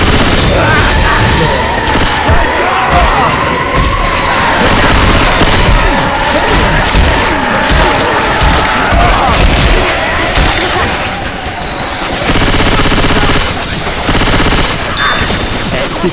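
Gunfire from the video game Left 4 Dead 2 plays as loud, dense, near-continuous rapid bursts, like a machine gun, with crashing impacts mixed in and a brief lull before the firing resumes.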